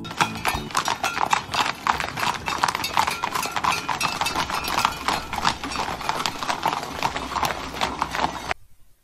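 Rapid hoof clip-clops of horses on a hard surface, a dense busy clatter that runs steadily, then cuts off abruptly at the end.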